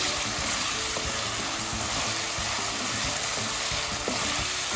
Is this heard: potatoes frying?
yes